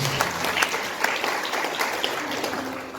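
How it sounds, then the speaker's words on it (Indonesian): Applause from a congregation at an Easter Sunday service in a Jakarta church, a steady dense wash of clapping throughout, moderately close. "Sekali lagi beri tepuk tangan yang meriah."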